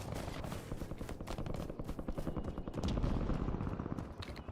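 Rapid gunfire crackles in Call of Duty Warzone, with dense repeated shots and bursts over a rumbling battlefield background, fairly loud and continuous, swelling toward the end.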